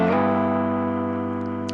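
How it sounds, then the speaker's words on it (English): A sustained guitar chord rings out through a Boss GT-1000 Core processor with reverb placed after the cabinet simulation, a clean tone with a smooth decaying wash and faint echo tails, heard alone without talk. "here we can hear my reverb coming in"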